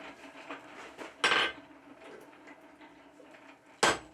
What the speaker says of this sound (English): Here I'm working on a really rounded corner of my anvil with the cross peen just to give that transition a little more shape.